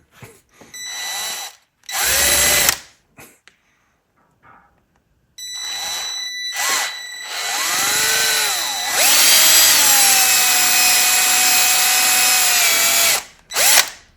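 A power drill bores a 3/8 hole through a plastic auxiliary light bracket, whining in several loud bursts with rising and falling motor pitch as the bit bites and the trigger is released, separated by short silences.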